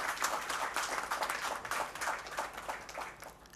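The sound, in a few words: audience applause at an inauguration event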